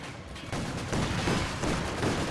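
Dense, continuous battle noise from Company of Heroes 2, with a satchel charge thrown at a Luchs tank amid rolling gunfire and explosions. The sound stays loud and sustained with no pauses.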